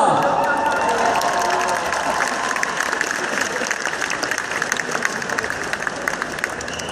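A large crowd applauds steadily at a cosplay contest awards ceremony at Gamescom 2014, dense clapping mixed with some cheering and a faint voice over it, holding loud throughout.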